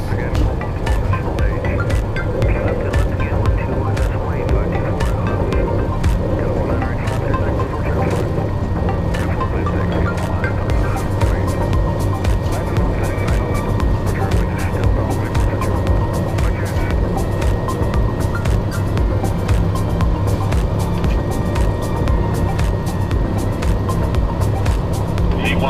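Loud, steady engine roar inside an airliner during its takeoff roll on runway 24, with a continuous rumble and whine and rapid rattling clicks throughout; cockpit voices are heard in the background.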